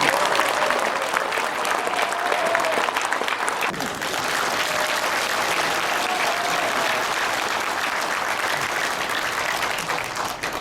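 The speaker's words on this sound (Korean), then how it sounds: "우리 김진태 국회의원님이 앞장서 주실 수 있도록 박수 한번 크게 보내주세요" Loud, sustained crowd applause for a lawmaker at a political launch rally in Seoul, continuous clapping lasting over ten seconds with a slight dip partway through.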